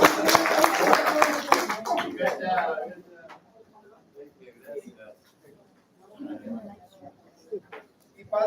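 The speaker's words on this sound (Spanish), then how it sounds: "Un aplauso que se mire." Group applause at a community meeting in a church, a short burst of clapping from several people lasting about two seconds, then fading into scattered quiet voices and room noise.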